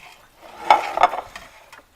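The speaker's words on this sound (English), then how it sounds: "You can hear that nice sizzling going on." Chicken breasts sizzling in olive oil in a pan, a soft steady fry with a couple of louder bursts of crackle and stirring, heard close up with no talking.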